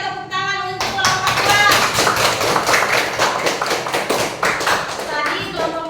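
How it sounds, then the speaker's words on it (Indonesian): A classroom of schoolchildren claps for a group after its presentation, a dense, energetic burst of hand claps lasting several seconds, close and loud, with children's voices mixed in. "Ayo tepuk tangan untuk kelompok"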